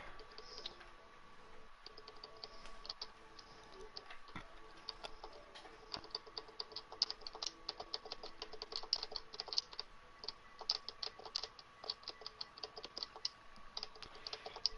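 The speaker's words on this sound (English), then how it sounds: "It sounds like you're typing away over there." Quiet typing on a computer keyboard, rapid light clicks that start sparse and grow into dense, continuous bursts over a faint steady background hum.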